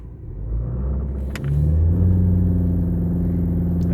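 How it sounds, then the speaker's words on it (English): A Ford Escape engine revs while held on the brake in drive, a low rumble that swells midway into a louder, sustained, rising roar, close and steady. "I've got my foot on the brake, and I'm going to power brake it to see how the torque converter feels."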